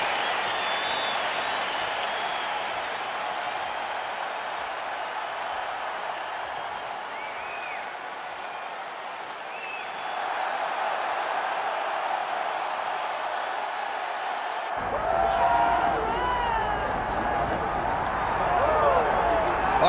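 Arena crowd in the UFC 5 video game at a Jared Cannonier vs Marvin Vettori fight, a steady dense roar of cheering and clapping that swells partway through and grows louder toward the end, with commentary voices over it.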